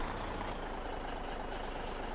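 A tipper truck in Farming Simulator 17 runs with a steady, dense engine drone and rumble, loud and continuous throughout, with a brief hiss partway through and no talk.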